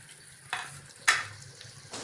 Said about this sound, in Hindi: जब तक हमारे टमाटर नरम होते हैं मैं इसको थोड़ा सा भूनती हूँ